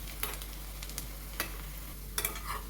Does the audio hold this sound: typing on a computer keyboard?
no